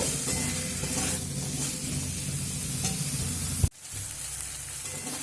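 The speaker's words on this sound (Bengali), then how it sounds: "কেটে রাখা গাজর দিয়ে আবারও মিডিয়াম ফ্লেম করে এক থেকে দু মিনিট একটু নাড়াচাড়া করে নেব" Carrots, and beans are stir-fried in a pan over a medium flame while making a vegetarian paneer chowmein, giving a steady close sizzle with stirring scrapes that break off sharply, then a quieter sizzle resumes.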